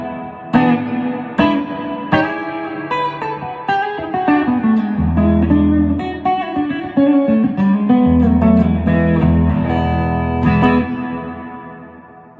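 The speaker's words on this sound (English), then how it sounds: "Here's a longer, more intense hall reverb." Electric guitar played through a 1965 blackface or 1967 silverface Fender Showman tube amp, drenched in a long, intense hall reverb: ringing chords and single notes with washy tails and a steady low bass drone underneath, loud and alone.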